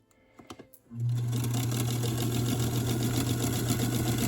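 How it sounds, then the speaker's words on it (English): A sewing machine starts after a few light clicks and then runs steadily, stitching fabric with a fast, even mechanical whirr and rapid needle patter up close, no voices. "I'm going to sew right off the edge because I'm off of that second piece of fabric"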